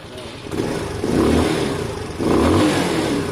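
Sinnis Harrier 125 motorcycle engine, a project bike after an exhaust clean and paint, revving up close by in two throttle bursts that rise and fall, with rough uneven running.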